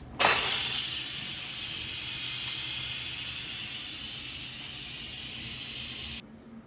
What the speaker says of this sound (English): let's quick release the steam